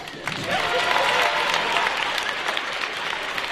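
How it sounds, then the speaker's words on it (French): A festival crowd at a manga event applauds loudly, a thick, continuous wash of many hands clapping for the full few seconds, with indistinct crowd voices mixed underneath. "Je vous demande d'applaudir maman."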